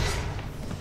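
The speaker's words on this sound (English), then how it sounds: "Oh, I forgot about the rocket jump." A rocket jump in DC Universe Online lands as a single dull, heavy thud up close, with a brief low rumble trailing off in under a second.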